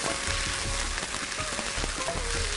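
Half a kilo of chicken fries loudly in a pot, a dense, steady sizzle with soft scraping as the pieces are stirred and mixed, no voices.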